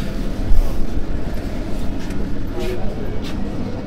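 A steady low rumble and rattle fills the interior of a running Vande Bharat Express train, continuous and fairly loud, while a person talks over it.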